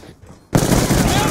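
Light machine gun fire in Call of Duty: Black Ops, a loud, dense burst of automatic gunfire that cuts in abruptly after a quiet moment and continues without pause.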